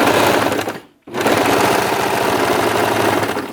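A Brother 1034D serger sews fabric with a loud, close, rapid mechanical whirr that stops for a split second, then starts again and runs steadily to the end.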